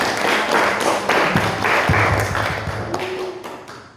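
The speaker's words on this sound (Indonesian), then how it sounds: "Kasih tepuk tangan dulu dong untuk semangatnya ya" Applause at an evening family gathering, a burst of clapping from a small group that starts loud and gradually thins out, with a few sharp taps and a faint tone near the end.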